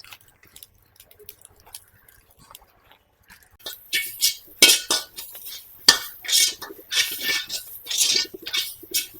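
Grated coconut is lightly sautéed in a pan for Chettinadu kalla veettu aviyal, with a spoon scraping and clinking against the metal in quick, uneven strokes that start after a few quiet seconds.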